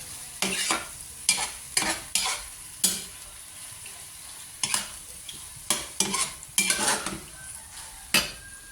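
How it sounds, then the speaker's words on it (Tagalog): A spoon stirs dinuguan, a Filipino pork blood stew, in a pot, giving sharp scraping clanks in uneven bursts over a soft sizzle, close and fairly loud with no talk. "update ko kayo mga idol sa aking nilutong dinuguan"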